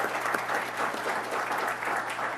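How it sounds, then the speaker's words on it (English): A round of applause at a board meeting's opening remarks, steady and dense clapping from a roomful of people, sustained evenly throughout without speech over it. "applause."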